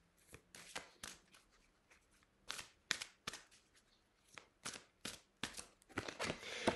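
Tarot cards being shuffled by hand for a reading, a quiet sequence of crisp riffling and slapping bursts in irregular clusters, growing denser toward the end, with no talking.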